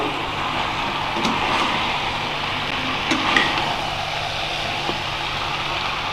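Potatoes being sautéed and stirred in a pan for a Bengali pachon vegetable dish; a steady close sizzle runs throughout, with a few light utensil scrapes and clinks.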